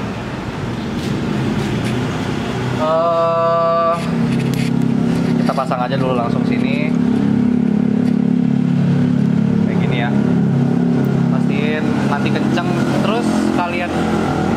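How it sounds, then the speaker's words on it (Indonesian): A passing car's engine rumbles steadily nearby throughout, loud under a person talking while fitting a radial brake master cylinder on a Ninja 250 SL, with a brief buzzy tone early on. "Sorry berisik suaranya, ada mobil."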